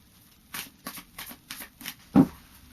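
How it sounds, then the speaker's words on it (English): A series of soft riffling bursts as tarot cards are shuffled, about six quick passes in steady rhythm, ending with a firmer tap as the deck squares up. "we'll just shuffle these cards"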